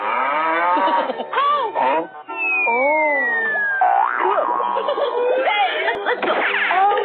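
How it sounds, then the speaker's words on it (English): A cartoonish cow moos loudly in a 3D animal slide video game, amid bouncy synthesized game sounds and tonal effects, with a player speaking over it. "Cow."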